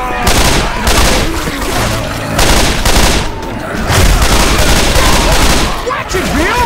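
Gunfire in the video game Left 4 Dead 2 on a custom map, rapid overlapping shots and bursts in loud, dense volleys that keep going with brief gaps, with game voices calling out in between.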